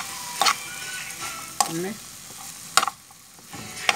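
Broccoli and carrots stir-fried with ginger and garlic in a pan give a soft, steady sizzle, broken by a few sharp scrapes and clatters of stirring.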